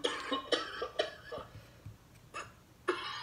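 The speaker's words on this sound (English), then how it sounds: "It sounds like a baby coughing." Coughing sample dropped into a trap-style music beat: several short, sharp coughs and throat bursts repeat at irregular intervals, close and fairly loud with no talking.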